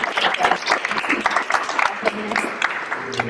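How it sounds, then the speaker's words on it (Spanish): A crowd applauds steadily, dense clapping filling the whole stretch at moderate volume, with some voices mixed in. "sobre todo un gran aplauso"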